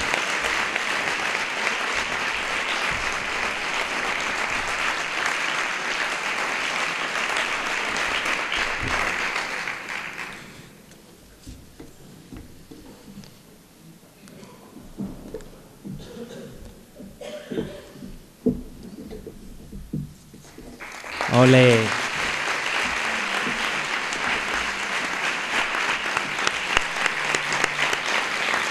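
A school anniversary gala audience gives a finalist sustained applause that fades out, leaving a quieter stretch with murmured talk and a called-out cheer before clapping rises again and continues.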